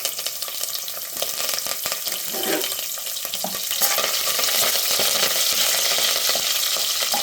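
Garlic cloves and curry leaves fry in a pan for a Kanyakumari-style kattu soru, a close, steady sizzle with scraping stirring strokes that grows slightly louder partway through.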